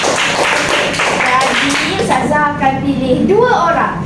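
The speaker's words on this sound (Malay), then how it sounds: "Bagi tepukan semua." A class claps briefly together in a religious studies lesson, with quick close hand claps fading as children's voices take over.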